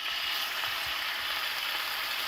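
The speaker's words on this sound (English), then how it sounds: "get a nice sear on that liver" Beef liver searing in a smoking-hot pan, a steady bright hiss and crackle of sizzling fat that stays loud and even throughout, with faint soft clicks underneath.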